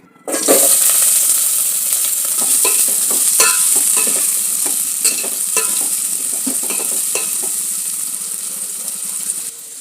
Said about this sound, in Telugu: ఆయిల్ అయితే వేసుకున్నాం కదా, ఇప్పుడు దీంట్లో ఉల్లిపాయలు పచ్చిమిరపకాయలు వేసుకుందాం.